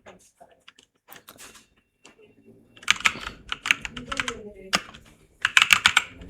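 A computer keyboard is typed on with caps lock engaged, sparse light taps giving way to dense bursts of loud, close keystrokes, while a voice murmurs faintly underneath.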